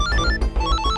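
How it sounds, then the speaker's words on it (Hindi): A phone ringtone plays as a loud, continuous electronic melody of bright repeating tones over a low pulsing beat, filling the whole moment with no voices. "किसका टुनटुना बजे? लगता है व्योम का ही फोन होगा।"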